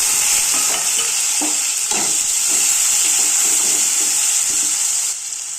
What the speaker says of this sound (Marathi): कांदा लसूण लालसर झाले की यात टोमॅटो ऍड करा